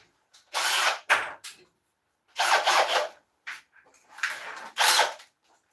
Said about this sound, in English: let's get this thing sanded off